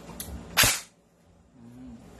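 A handgun is dry-fired after the chamber is cleared, giving a single sharp, close metallic snap that rings briefly and then fades into quiet room noise.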